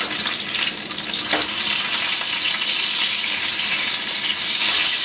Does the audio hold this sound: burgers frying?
yes